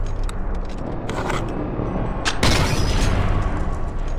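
A sniper rifle shot from the video game Sniper Elite 4 booms out once, loud and close, followed by a rumbling echo and a couple of faint mechanical clicks.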